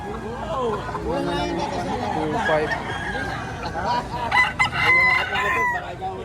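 Roosters crow repeatedly and chickens cluck close by at a poultry market in Padre Garcia, Batangas, a busy chorus of fowl layered over people chatting in the background.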